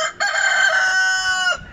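A rooster crows once at a crowded Antakya bird market, loud and close, a single sustained call lasting over a second.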